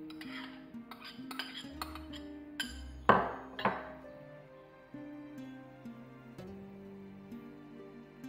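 Minced meat filling with chopped onion, salt, paprika and chaman being stirred in a bowl, heard as light clinks and scrapes of a utensil against the dish, with a few sharper knocks midway over a quiet musical background.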